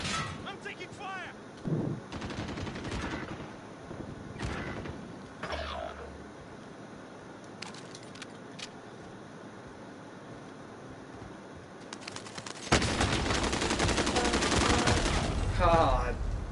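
Gunfire in the video game Call of Duty, with scattered single shots and short bursts that swell into a dense, loud volley near the end, mixed with brief player voices.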